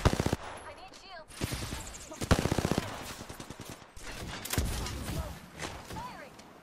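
Gunfire in the battle royale game Apex Legends, with a Bangalore player in the fight: rapid automatic bursts and single loud shots crackle through the scene, and character voice lines and callouts are heard over the shooting.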